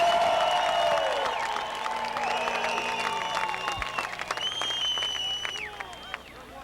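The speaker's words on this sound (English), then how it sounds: "The fans chanting for Stevie Smith as he comes around the side of his car." Crowd of race fans at the 1993 Knoxville Nationals sprint car race applauding, cheering and chanting for a driver, a steady roar of clapping and voices holding throughout with scattered louder shouts.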